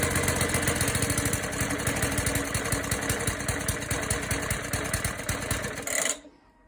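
A restored Suffolk Super Punch lawn mower engine runs with a steady, close, loud rapid chugging for about six seconds, then abruptly cuts out into quiet.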